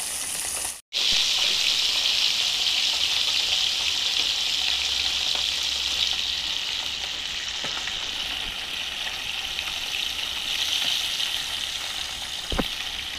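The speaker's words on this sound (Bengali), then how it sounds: "এই দেখুন একে একে মাছগুলো আমার ভাজা হয়ে গেছে।" Bata fish frying in oil, a loud, steady close sizzle with a brief break near the start and a sharp knock near the end.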